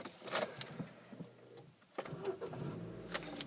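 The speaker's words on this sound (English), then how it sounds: "looking at the dash whilst we start the car" A Ford Focus engine being started from inside the car, with a faint, muffled cranking and catch amid clicks and rustling, quiet and close, with no talk.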